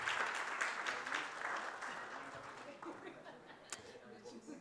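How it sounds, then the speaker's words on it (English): Conference audience at a Ugandan tech forum applauding for a Permanent Secretary, fairly distant and soft, with some chuckles and chatter mixed in as the clapping tapers. "Ladies and gentlemen, let's give another round of applause to the Permanent Secretary."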